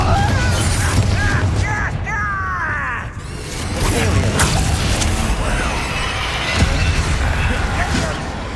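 Fiery Confringo spell blasts in Hogwarts Legacy combat: dense, continuous layers of booms, crackles and clattering effects stay loud throughout, with a voice talking over them.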